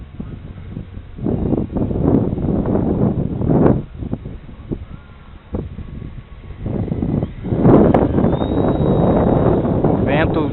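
Strong gusty wind buffets the microphone at a model airplane flying field where a low-wing model is flown, roaring continuously for several seconds with louder surges, while people speak over it.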